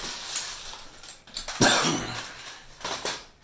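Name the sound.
coughing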